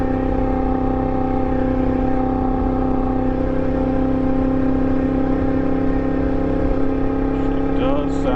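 A Yamaha MT-10 motorcycle fitted with an Austin Racing exhaust holds a loud, steady, close engine drone at a constant pitch.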